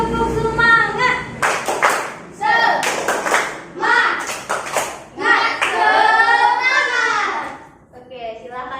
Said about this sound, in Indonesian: Kita mau tepuk semangat dulu biar kita bisa lebih semangat.